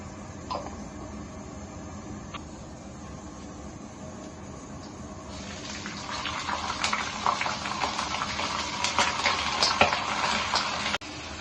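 Black cumin seeds sizzle in hot oil as a tempering for a Bengali bottle gourd stem curry, a steady frying crackle that swells louder partway through and runs alone with no talk.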